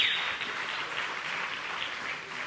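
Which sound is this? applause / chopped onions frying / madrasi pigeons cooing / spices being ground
applause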